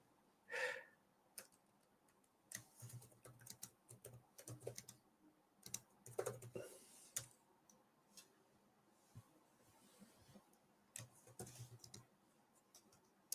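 Typing on the keyboard cover of a Boox Note Air5 C, quiet scattered bursts of soft key clicks in an irregular rhythm, close by and alone.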